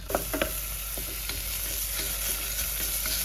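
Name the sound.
frying onion with cloves and cinnamon for biryani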